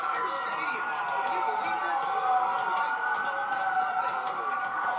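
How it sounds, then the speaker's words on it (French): Police sirens wail steadily through the streets of the Watch Dogs video game, a continuous rising and falling tone over a busy crowd-like background, with speech mixed in. "Et des sirènes de police partout"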